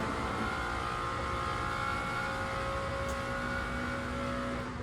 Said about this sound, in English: Taking a slipstream on the Porsche.